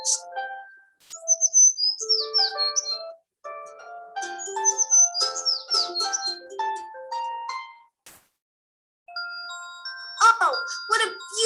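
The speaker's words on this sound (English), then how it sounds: "they both heard the sound of a beautiful bird perched on a tree, singing so beautifully that they stood entranced" A bird perched in a tree sings a rich, continuous warbling song of varied whistles and trills, fairly close and clear, with a brief pause before the song resumes.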